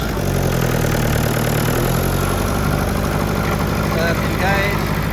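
Diesel engine of a pallet-chopping firewood machine idling outdoors with the clutch engaged, a steady low rumble and mechanical hum running throughout with some faint clatter near the end.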